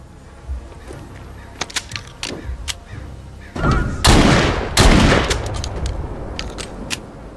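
Shotgun fire in the zombie game The Walking Dead: Saints and Sinners. Scattered mechanical clicks and clacks come first, then two loud, booming blasts about a second apart, each with a long rumbling tail.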